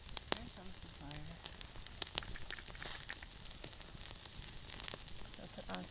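Seasoned venison steak sizzling over a fire: a soft, continuous crackle and hiss with scattered pops, with a voice speaking quietly over it.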